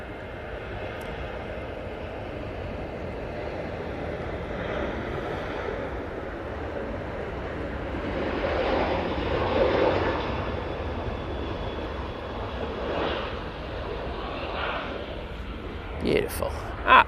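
An aircraft departs Manchester Airport as a distant, continuous jet rumble that swells in the middle and fades, with wind-like broadband noise throughout and a few sharp clicks near the end.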